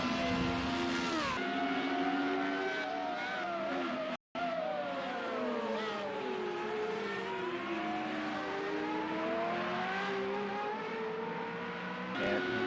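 Formula Renault race cars at the Red Bull Ring circuit scream past in a continuous, loud, high-revving engine whine whose pitch rises and falls as cars accelerate and shift, with one brief dropout partway through.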